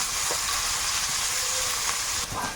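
Chopped onions frying in hot oil in a pan while chicken curry is being cooked, a steady close hiss of sizzling throughout with a few soft pops and clinks, no talking.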